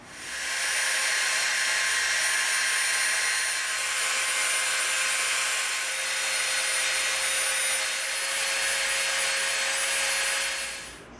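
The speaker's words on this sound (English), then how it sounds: "we're going to come in with the Dremel and we're going to bevel the edge" A Dremel rotary tool beveling the edge of EVA foam for a blaster prop, a steady high-pitched whine that ramps up quickly and holds loud and continuous with slight wavering as it grinds.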